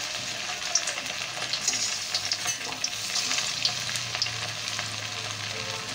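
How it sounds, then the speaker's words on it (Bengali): Chicken pieces for chicken pakoras fry in hot oil, a loud, close, continuous sizzle and bubbling with scattered sharp crackles and pops across the whole stretch. "তো তেল কিন্তু গরম হয়ে গেছে, আর একে একে আমাদের এই চিকেন পকোড়ার যে চিকেনগুলো আছে সেগুলো নিয়ে আমরা ছাড়বো এর মধ্যে।"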